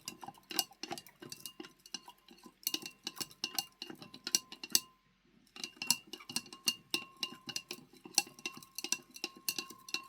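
Copper sulfate solution is stirred in a glass container, giving rapid irregular clinks and scraping taps close up, with a brief pause midway before the stirring resumes.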